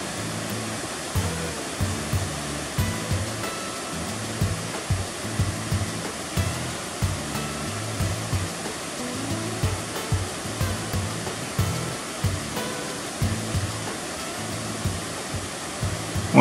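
A shallow waterfall shower on the Japuré river near Miravânia pours down as a steady loud rushing roar. A faint rhythmic thumping runs beneath it throughout, and no voices are heard.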